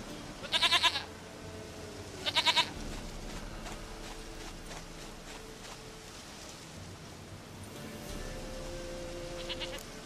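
A goat in The Witcher 3 bleats twice in short loud bursts near the start, then once more near the end, set against a soft rain-like ambience with quiet background activity between.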